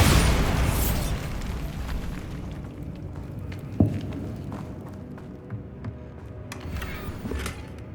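A Bombarda blast spell going off in the Hogwarts Legacy video game, heard as a broad rumbling burst at the start that fades into a low throbbing hum, with a sharp secondary pop partway through.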